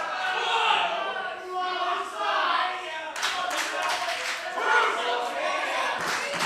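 A wrestling crowd at a CZW Dojo Wars event roars and claps loudly after a move, with cheering swelling and then a burst of dense applause; a commentator's voice runs underneath.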